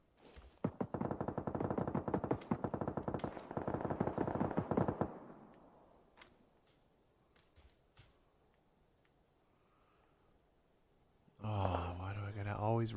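Suppressed gunfire in PUBG on the Sanhok map rattles in a rapid burst of muted shots, then fades to quiet game ambience with a few scattered footsteps and taps.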